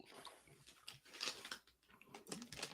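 Someone chewing food close to the microphone, with soft irregular crunching and biting noises repeating over a few seconds and no talking.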